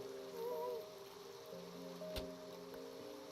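Steady rain hisses in the Minecraft video game at night, a soft even wash of noise under faint sustained music tones.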